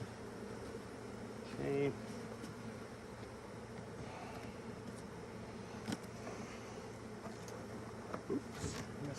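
Honeybees drone around an opened hive at an Alaska honeybee sanctuary in April while the queen is replaced. A steady, close buzz with passing louder flybys, a brief word from a person, and a few light knocks.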